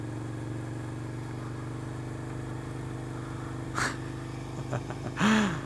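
A carbureted Suzuki SV650S motorcycle engine drones steadily and fairly quietly at a low, even pitch, with a couple of brief higher sweeps and rustles toward the end.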